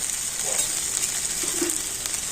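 Ground turmeric, Kashmiri chili, coriander and cumin fry in a pan with a constant, even hiss and faint scraping underneath, close and moderately loud.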